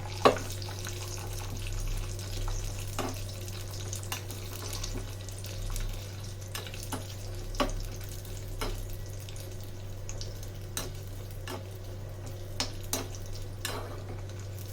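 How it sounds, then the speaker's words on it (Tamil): Cashews fry in ghee for semiya payasam, a quiet bubbling sizzle with scattered light spoon clinks and stirs over a low steady hum, no talk. "முந்திரியை நல்லா வறுத்துக்கலாம். நெய்யிலே வறுக்கணும் முந்திரி."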